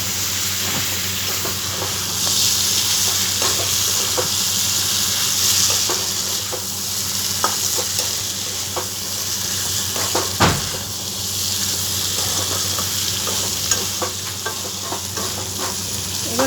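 Potatoes frying with Kashmiri chilli in a pan for a vegetarian aloo dum, a loud continuous sizzle close by with scattered scraping stirs and a sharper clatter midway.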